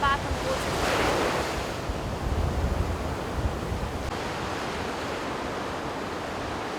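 Ocean waves wash over a reef shore at Mseni, Sodwana, with a loud, steady roar of surf and broad wind noise buffeting the microphone, rising with a nearby break at the start and then settling into constant rushing.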